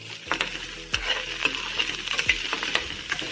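Onions frying to a deep brown in a pan, a constant sizzle with repeated scraping stirs of a spatula every half second or so, near and without talk.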